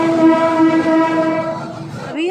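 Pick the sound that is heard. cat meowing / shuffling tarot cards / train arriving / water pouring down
train arriving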